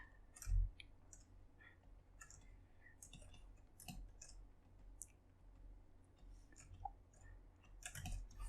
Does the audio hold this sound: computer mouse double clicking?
yes